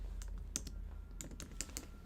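Typing on a computer keyboard, quick irregular key clicks in short bursts, fairly quiet over a low steady hum, with no talking.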